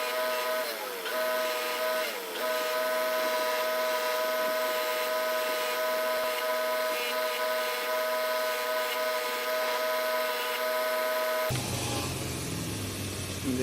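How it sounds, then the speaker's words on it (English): A bench wire wheel cleans scale off a hardened knife blade for a friction folding knife, giving a steady, loud, continuous motor whine that holds unbroken and shifts in tone near the end. "Now I'm just gonna clean off the hardened blade with a wire wheel"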